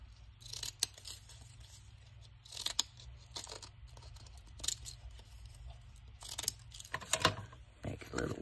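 Decorative deco scissors cutting paper at a craft table, producing a few separate snips and crisp rustling paper sounds, close and fairly quiet, with light handling noise in between.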